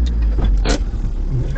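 Engine of a Tata Aria 4x4 or modified Mahindra Thar in a river bed rescue restarts after stalling: a loud low rumble with a brief cranking burst, under close talk and wind.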